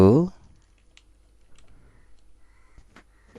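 Typing on a computer keyboard, sparse soft key clicks spread across a few seconds after a brief spoken word at the start, close and quiet in an otherwise silent room.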